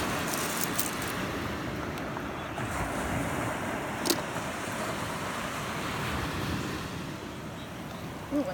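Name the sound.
ocean waves on beach at night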